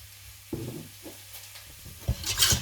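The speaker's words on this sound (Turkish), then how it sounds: "Karıştıralım." Water, fresh yeast, about two tablespoons of olive oil and salt being stirred together for Denizli-style gaba bread dough, a soft close-up sloshing and scraping that builds into a louder swirl near the end.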